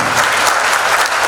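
Dense, loud applause from an audience at an Economic Outlook 2023 talk fills the whole short stretch as a steady wash of many hands clapping, with no voices over it.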